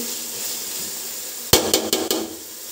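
Spices fry lightly in a pan for a large chicken biryani, with a steady low sizzle and then four sharp, close clanks of a spoon knocking against the pan.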